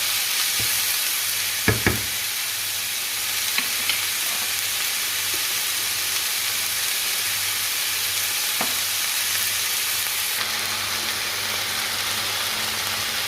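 Rice stirred and fried in a pan gives a steady, close sizzle, with a few sharp scrapes and clinks of the utensil against the pan and a low hum underneath; no one speaks.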